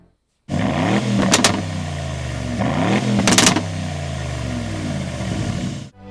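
A 2025 Aston Martin Vantage's twin-turbo 4.0-liter V8 runs loud and close, its engine note rising in pitch through revs with a couple of sharp bursts before cutting off.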